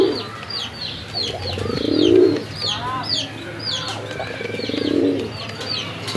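A pair of Bagha pigeons, local Bangladeshi birds with white tails, coo in low repeated rolling phrases at close range, with chirps from other birds overhead and a steady background hum.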